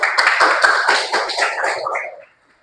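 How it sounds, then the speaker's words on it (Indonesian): A small group of students claps together in a chemistry classroom, a dense burst of hand claps lasting about two seconds before stopping abruptly. "Tepuk tangan untuk Neng Uroh."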